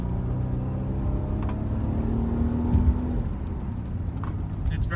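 A 2020 Mercedes-Benz GLC 300, non-AMG, driven into a corner: a steady low engine drone and road rumble from inside the cabin, swelling briefly as the car accelerates, then settling, with no talk.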